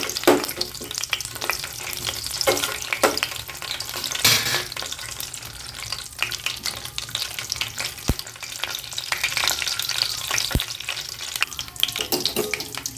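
Cinnamon, cloves, cardamom and crushed fennel frying in hot oil for a paneer gravy, a loud continuous sizzle with stirring clatter and two sharp utensil taps, no voices.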